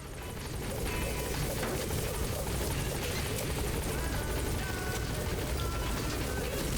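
A helicopter in Metal Gear Solid V: The Phantom Pain drones steadily with a constant whirring rotor and engine hum, fading in over the first second and then holding at a fairly loud level.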